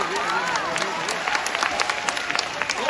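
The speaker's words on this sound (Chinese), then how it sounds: "大家给掌声" A theater audience at an evening crosstalk performance claps steadily for a 70-year-old man, the applause filling the hall while voices carry over it.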